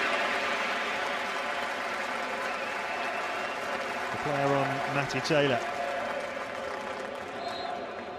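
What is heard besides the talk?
football crowd applauding player Joe Cole at Upton Park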